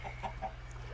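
Chicken clucking in the video game Minecraft, a few short soft clucks over a steady low background hum, fairly quiet and with no talking.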